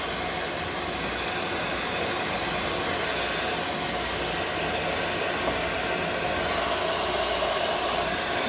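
A hair dryer on a warm middle setting blows over a dog, a loud, steady, unbroken whoosh with no talking.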